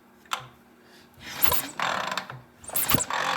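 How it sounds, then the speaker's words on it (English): Vintage British motorcycle being kicked over during repair, two or three mechanical clunks and ratcheting scrapes of the kickstart lever, with bursts of broadband rushing noise between strokes, close and fairly loud with no talking. "now we're kicking it over, and let's see if we got good spark"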